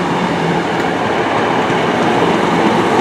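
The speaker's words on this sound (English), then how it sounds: "Arriving into Newton Abbot now is the 1935 Great Western Railway service to Exeter St David's." A Great Western Railway train running from Plymouth arrives at Newton Abbot station, a loud, steady rumble of wheels and carriages with faint clatter filling the platform throughout.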